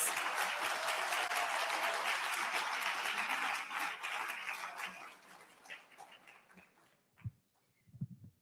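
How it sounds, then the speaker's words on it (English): Warm audience applause at an international human rights summit opening session, a full burst that gradually thins and fades into a few scattered claps and stage noises near the end. "Please give her an incredibly warm round of applause."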